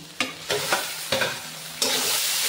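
Onion and tomatoes sauté in a hot pan under a constant sizzle, with several sharp scrapes of a spoon stirring through them, heard up close without talk.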